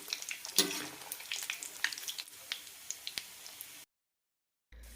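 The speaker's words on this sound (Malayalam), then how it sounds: "മീഡിയം ഫ്ലെയിമിലിട്ട് തന്നെ വറുത്തെടുത്താൽ മതി" Soya chunk balls crackle and sizzle in oil over a medium flame, with irregular close pops that stop abruptly for a moment of silence before resuming faintly.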